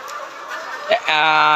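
Layer hens on a poultry farm holding fourteen thousand birds cluck close by, with a person talking over them and a sustained, tonal call rising at the end.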